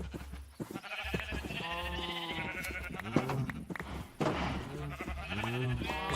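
Several sheep bleat in a farming video game, overlapping wavering calls from near and mid distance with brief gaps and a soft thump between, under a low steady hum.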